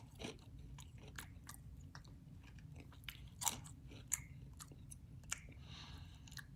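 Sour Patch cereal is chewed during a taste test, with close, quiet crunching and biting crackles in irregular bursts over a soft background hiss, with no talking.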